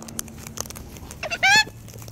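Wild cockatoos in Sydney, Australia let out a harsh, raspy squawk. It is preceded by scattered short chirps and light outdoor rustling, fairly close and loud for about a quarter second.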